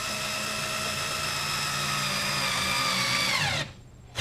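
A power drill drives a screw into a pilot hole while a Furinno bookcase is assembled, its motor whining steadily and close for over three seconds before dropping in pitch as it winds down and stops abruptly.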